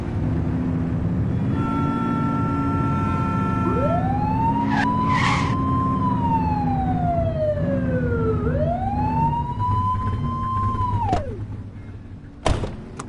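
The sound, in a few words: police car siren in a police video game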